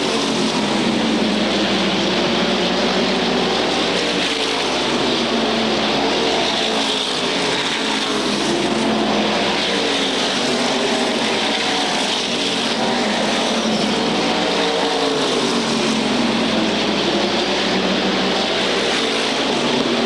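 SK Modified race cars circling Waterford Speedbowl, a loud continuous roar of engines with shifting pitch as cars sweep past, no talk heard.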